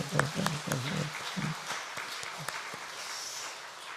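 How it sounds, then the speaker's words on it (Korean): A church congregation at a Friday early-morning prayer service claps in brief applause, a soft crowd of hands under a pastor's voice, fading out after a few seconds. "박수 한번 납시다"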